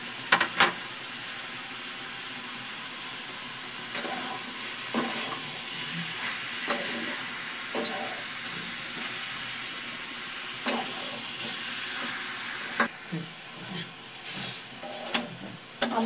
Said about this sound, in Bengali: ভালোভাবে আমার পেঁয়াজ ফুলগুলো মোটামুটি একটু ভাজা হয়ে আসছে, এখন আমি টমেটো আর কাঁচামরিচ দিয়ে দিব।